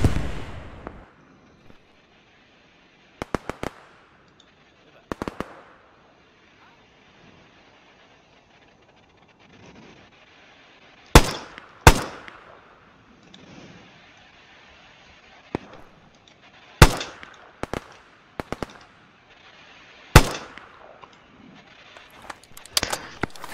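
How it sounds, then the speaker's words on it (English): Sniper rifle shots ring out one at a time in a rooftop shooter game, about eight sharp cracks spaced irregularly across the stretch, some in quick pairs, over a quiet backdrop with faint rumble. "Let's see if I can snipe some guys."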